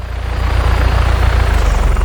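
Helicopter flying in the video game Just Cause 3, a steady loud rotor drone with low throbbing blade chop sustained throughout, no voices over it.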